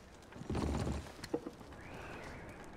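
Horses in the Red Dead Redemption 2 video game give a short burst of hoof clops and shuffling, followed by a few faint knocks over quiet outdoor ambience.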